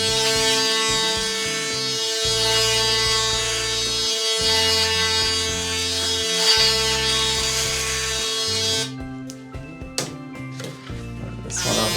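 An electric shaver, a Braun Series 9 Sport+ or a Panasonic Arc4 ES8243AA, buzzes steadily up close for several seconds, its motor tone shifting as it passes over stubble, then cuts off into scattered clicks and handling noise.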